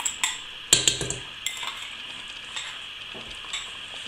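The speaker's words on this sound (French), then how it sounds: "je vais mélanger" Cream and mustard sauce being stirred in a pan for rabbit leg in white wine, with a few sharp utensil clinks against the pan over a soft bubbling sizzle.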